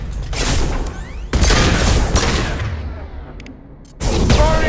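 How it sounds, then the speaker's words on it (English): A heavy impact shot fires in the Mass Effect 2 video game: booming broadband blasts that swell, fade briefly, then return loud and close amid sustained combat noise. "Firing an impact shot!"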